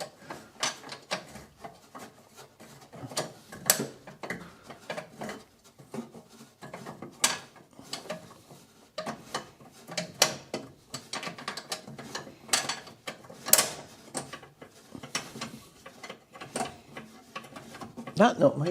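A ratchet wrench loosening a tight nut on a Land Rover during a camper build, with irregular bursts of clicking ratcheting scattered across the stretch and someone talking at times between strokes.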